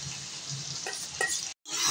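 Cauliflower manchurian is stirred in a hot pan, a steady close sizzle with soft scraping strokes of the spoon, cut off by a brief silence before the frying resumes.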